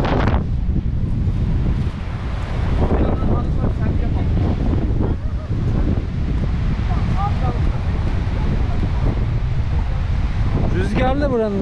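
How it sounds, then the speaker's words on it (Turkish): Strong wind blowing across the microphone at Ilıca public beach in Çeşme, a continuous loud rumble that runs through the whole stretch, with people talking over it. "Rüzgarlı buranın denizi."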